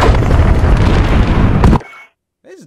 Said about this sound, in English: Crash into the chopper